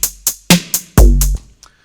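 Glitchy electronic hits layered together in Ableton with saturator and wave folding effects, playing as a sharp, repeating stutter of five or six loud percussive bursts about a quarter second apart, the last one longer and buzzing before cutting off.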